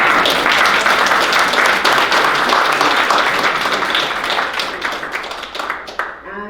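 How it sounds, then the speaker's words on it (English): An audience at a Douglass Day 2020 event applauds loudly and steadily in dense, continuous clapping that holds for several seconds before thinning out near the end, with some voices mixed in. "please give me a clap"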